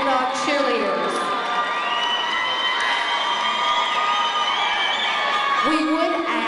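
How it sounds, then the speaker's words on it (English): Crowd at a 2012 high school cheer competition cheering and shouting for the Lawrence County Bulldog cheerleaders, a dense sustained roar of voices with high-pitched screams and whoops rising and falling, loud and continuous. "Give a big hand to the Lawrence County Bulldog cheerleaders."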